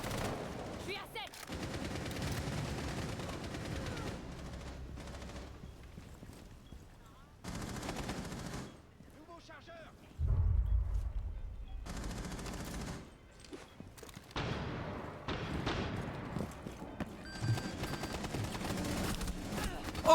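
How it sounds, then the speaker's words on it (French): Gunfire in a video game shooter, rapid automatic bursts and rattling volleys, some stretches dense and loud and others thinner, under game effects with no clear talk. "toutes mes balles sont juste au-dessus à cause du recul de la Air Force C"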